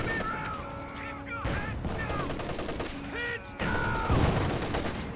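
Bursts of MG34 machine gun fire in a World War II strategy video game battle, rapid rattling volleys layered with other gunfire and game effects, loud and continuous through the short stretch.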